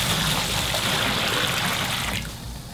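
Clean water pours from a heavy bucket into a fiddler crab tank in a steady, close gushing trickle that tapers off near the end, with no talking.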